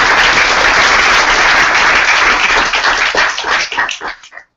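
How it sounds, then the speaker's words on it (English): A room audience at a Paris machine learning meetup claps steadily and loudly, then the applause thins into scattered claps and stops, with no speech over it. "Donc, vous l'applaudissez encore une fois."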